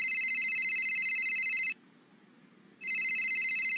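A telephone rings loudly with a steady electronic trill, pauses for about a second, then starts ringing again.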